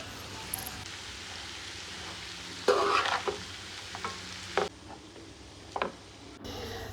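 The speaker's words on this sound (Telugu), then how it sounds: "ఇలా డ్రైన్ చేసుకున్న అటుకుల్ని యాడ్ చేసి బాగా మిక్స్ చేయాలి" Drained flattened rice (poha) is stirred and tossed in a pan for a Telugu-style poha upma, giving a few short scraping, clattering strokes over a low, steady cooking hiss, with no voices.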